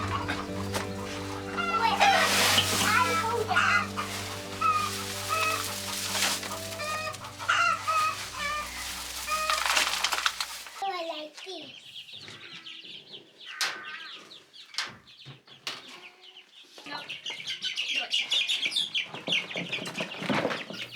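Chickens cluck and a rooster crows loudly and close during a move to a chick coop, with wings flapping and scattered bird calls; after about ten seconds the flock quiets to sparse clucks and rustling, then fainter chirping.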